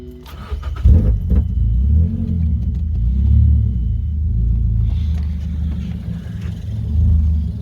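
A warm Mazda car engine rumbles steadily near the microphone, with a brief rise around the first second and sustained low drone through the rest, a possible rev swell late on.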